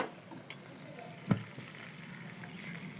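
Katla fish pieces and soft snake gourd with salt and turmeric frying in a pan, giving a quiet, steady sizzle with a sharp clink of a spoon or spatula against the pan partway through.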